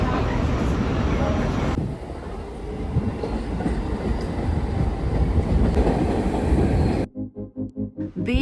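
A train runs along a railway over the sea, a loud continuous rumble and rolling rattle of wheels on track that shifts in tone partway through and ends with rhythmic pulsing clickety-clack beats.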